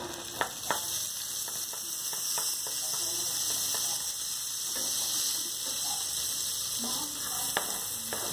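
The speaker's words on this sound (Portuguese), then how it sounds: "a galinha cortadinha em quadradinho está assando, tá fritando" Diced chicken pieces frying in a pan, a continuous hissing sizzle with scattered pops and occasional utensil clicks, steady and close.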